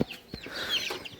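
A farmyard chicken clucks nearby in a few quick, throaty bursts with brief gaps between them, close to the microphone and fairly clear, with no voices.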